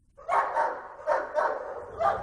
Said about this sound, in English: WCCO spearheaded a search of a remote farm in Tiffin, Iowa, using police cadaver dogs.